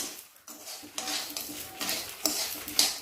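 Spices for a coastal Karnataka chutney fry and get stirred in a pan, with a spoon scraping and clinking against the metal in irregular strokes over a faint sizzle, close and moderately loud.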